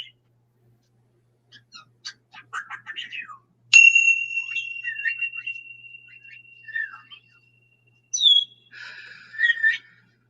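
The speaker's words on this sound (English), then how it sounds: "So let's just ring this bell and let all your cares go with it." A single bell strike rings out clearly and holds a bright, sustained tone for several seconds, surrounded by soft chirpy bird-like sounds and brief small noises.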